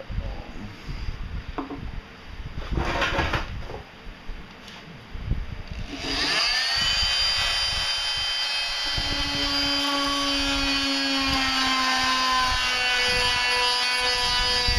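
A power tool cuts into bone while making a bone scythe: a few rough, scraping bursts, then a sustained high whine with tonal overtones that carries on to the end, close and fairly loud.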